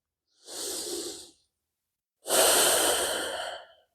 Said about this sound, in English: Just keep breathing here